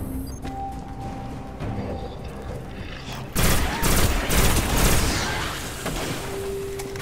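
Pulse rifle fire in Destiny during the Warmind mission: after a stretch of quieter game ambience, a sudden loud burst of rapid shots hammers for a couple of seconds, then tapers back into background noise.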